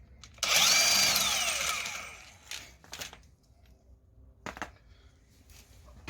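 Impact gun on the rear wheel hub of a Subaru Outback, a loud close burst of whirring lasting about two seconds that winds down, followed by a few short scraping and clanking sounds.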